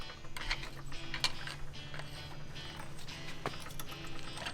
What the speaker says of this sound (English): take a flat blade screwdriver and put it in between the rotor and the pad and kind of give it a little